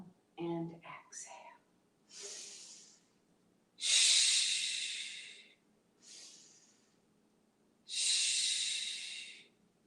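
Deep yoga breathing, with a few soft whispery sounds at the start followed by slow alternating inhales and exhales, the longer exhales breathy and fairly close, separated by quiet pauses.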